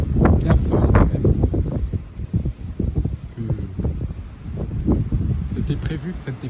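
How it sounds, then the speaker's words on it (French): Strong gusty southerly wind from a passing storm roars and buffets the microphone in uneven surges, loud and close, with rumbling low-end bursts throughout. "de grosses rafales de vent quand même."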